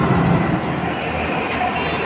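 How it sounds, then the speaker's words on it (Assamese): A Delhi Metro train rumbles loudly and continuously, a dense steady roar of wheels and motor as it pulls into the station. "এতিয়া আহি আছে ট্ৰেইন এখন আহি আছে"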